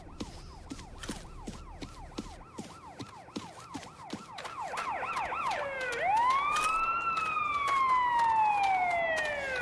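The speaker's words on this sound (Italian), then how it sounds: "Ovviamente si poteva evitare il fatto della sirena" A wailing emergency vehicle siren in the zombie survival game The Day Before, cycling rapidly at first, then shifting into a loud, long rising and falling wail that grows nearer and stronger.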